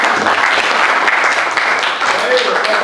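A class of students at a madrasah in Lumajang claps loudly and continuously, with voices and chatter mixed into the applause.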